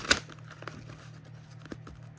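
Tarot cards are shuffled in quiet surroundings, giving a brief crisp riffle and a few soft scattered card taps and flicks over a low steady hum, with no talking.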